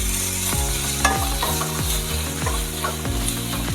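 Onions and curry leaves frying in a pan, stirred with a spoon in repeated scraping strokes over a steady close sizzle, no voices.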